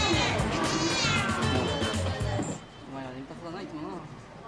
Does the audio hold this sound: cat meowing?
yes